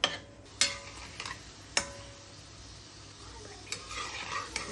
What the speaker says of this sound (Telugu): పోపు వేగాలి బాగా.